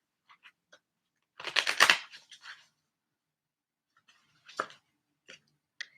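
Close, quiet riffle of an Osho Zen tarot deck being shuffled, one dense flurry followed by scattered light card taps and snaps in an otherwise silent room.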